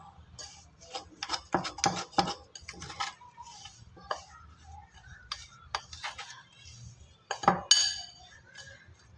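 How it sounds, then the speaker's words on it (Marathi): Roasted besan flour being stirred with a spoon in a bowl, giving a string of light clinks and scrapes against the bowl at an uneven rhythm, close by, with a louder clatter near the end. "आता आपण एकदा चांगल्या पद्धतीने बेसन हलवून घेऊया"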